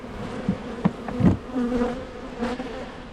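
Honey bees buzzing around an open Langstroth hive during an inspection, a steady droning hum with several louder passes as individual bees fly close by.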